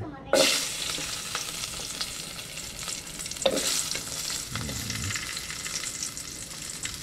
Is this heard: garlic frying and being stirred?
yes